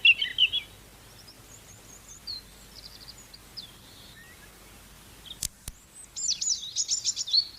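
Robin singing in a British garden, bursts of thin, high, warbling phrases, clear at the start and end with quiet gaps between and a couple of sharp clicks.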